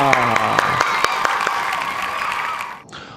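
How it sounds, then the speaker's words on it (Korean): Applause with cheers and a whoop from a lecture audience opening the first class, steady and fairly loud for about two and a half seconds before it cuts off. "첫 수업을 시작합니다 하면은 박수를 크게 쳐보시는 겁니다."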